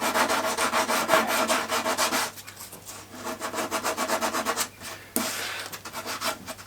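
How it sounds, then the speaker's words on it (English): Sandpaper rubbed by hand over a wooden workbench gives steady rhythmic scratchy strokes, loud and close, with a brief pause midway and another near the end. "Now we will just take a quick piece of sandpaper"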